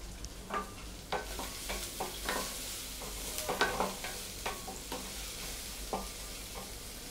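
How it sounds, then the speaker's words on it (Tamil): Green chilies and dried red chilies fried in a pan for Tamil dal: a faint sizzle under repeated rhythmic spoon scrapes and stirring taps against the pan, with no voices. "இப்போ நம்ம பச்சை மிளகாயும் வரமிளகாயும் போட்டுறோம்."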